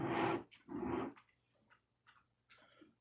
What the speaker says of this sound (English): I'm just petting my dog.